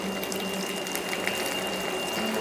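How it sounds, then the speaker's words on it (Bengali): Water pours into a pan of spiced, masala-coated cauliflower in a home kitchen, a steady close gurgling stream with a faint whine running underneath. "এবার আমি জল দিয়ে দেবো"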